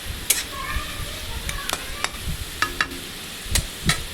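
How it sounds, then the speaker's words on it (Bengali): Onions frying until reddish-brown in a pan, with a steady sizzle broken by repeated sharp scrapes and knocks of a spoon stirring against the metal, close and fairly clear. "পেঁয়াজটা কিন্তু একদম লাল লাল করে ভাজা প্রায় রেডি হয়ে গেছে।"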